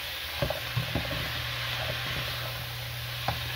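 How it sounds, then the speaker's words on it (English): Browning beef is stirred in a pan for a teriyaki casserole, giving a constant soft sizzle and hiss with a few sharp utensil taps against the pan, close and fairly quiet, with no talking. "Just going to stir that bad boy."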